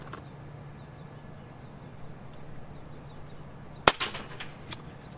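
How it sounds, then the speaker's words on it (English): A Benjamin Marauder air rifle fires a single sharp crack, followed immediately by a few smaller clattering knocks as the pellet hits the trap, set against a quiet background hum. "You're getting a lot more sound out of the pellet hitting the trap than you are out of the gun"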